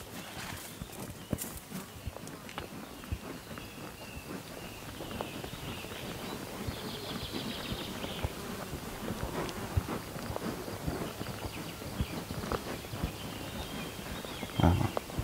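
Horse hooves clip-clop at a walk on an arena surface during a riding session with a horse that tends to rush, the steady footfalls running throughout beneath a rider's intermittent coaching.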